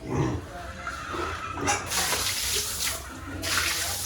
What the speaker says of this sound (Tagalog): Dito lang ako kumukuha ng tubig sa aming ginawang mini pool.